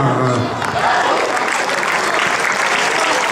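A crowd at a youth football tournament prize ceremony claps for the Saint-Léonard club, dense steady applause close by after a brief voice at the start.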